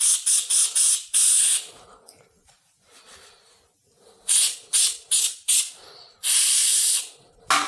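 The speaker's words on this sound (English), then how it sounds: "use some contact spray and clean it off a little bit." Contact spray cleans the ignition coil of a Jeep 4.7 V8 in close, loud hissing bursts. Several short puffs come first, then a quiet pause, then more short blasts and a long final spray.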